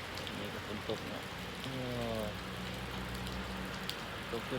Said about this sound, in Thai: นี่ก็ฝนตกเนาะ